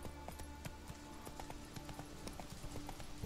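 Rhythmic clip-clop of galloping horse hooves from riding in The Witcher 3, steady and fairly close, repeating evenly over a soft continuous ambient backdrop.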